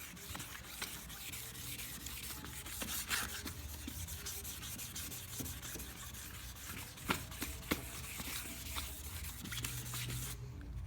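A sanding block rubs on a Toyota MR2 Spyder headlight lens in quick, steady back-and-forth scratchy strokes, close up, with a few sharper scrapes and no voices.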